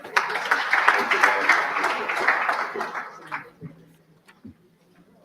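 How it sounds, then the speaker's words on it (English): Audience applause at a poetry book launch in the Gambia, a dense burst of clapping that fills the first three seconds and then thins out into scattered claps and faint room noise. "Another round of applause"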